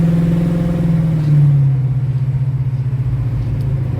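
A Pontiac 455 V8 hot rod street car with a Violator exhaust idles and rumbles loudly up close, with a brief blip of revs before settling back into a steady, lumpy burble.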